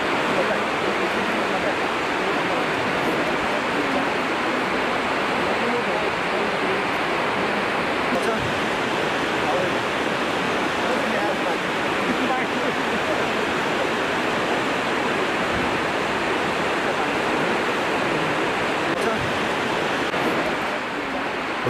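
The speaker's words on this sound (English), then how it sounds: "These are pictures of the river shortly in spate after the glacial breakage" The Alaknanda river in spate after a glacier burst in Chamoli, Uttarakhand, roars as dense, unbroken broadband water noise, loud and constant throughout.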